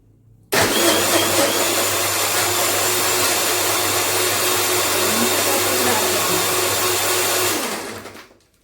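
Juicer mixer grinding pomegranate for juice, a loud, close, steady whirring roar that switches on abruptly, holds evenly for about seven seconds, then winds down and stops.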